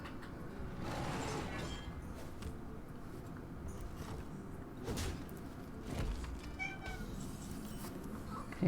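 A domestic cat meowing several times indoors, fairly near, with the calls set over a low background hum.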